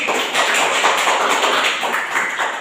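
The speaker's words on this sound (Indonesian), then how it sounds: "Beri aplaus dulu." A classroom group applauds during a micro-teaching practice session, dense sustained clapping from many hands at close range, steady for the whole stretch with slight swells.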